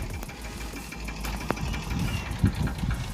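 A farm tractor idles outdoors during sowing season with a steady, low, throbbing rumble and a few faint knocks and clicks on top, and no one speaks.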